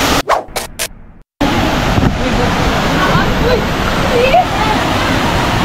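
Twin Falls waterfall in Kalayaan, Laguna roars with dense, steady rushing water, loud and close, after a brief burst of talk and handling noise at the start.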